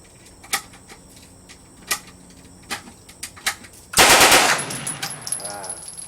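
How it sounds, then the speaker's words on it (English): Automatic weapon fire at a shooting range: several sharp, isolated shots ring out, then a loud sustained burst rattles off and fades with echo. "as soon as you feel the gun recoil, you're going to let go of the trigger"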